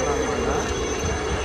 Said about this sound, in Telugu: హెలికాప్టర్ ఇక్కడ దిగుతుంది